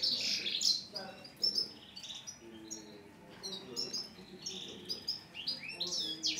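Songbirds chirp and trill in bright, overlapping bursts, with quieter warbling phrases between them and no talking.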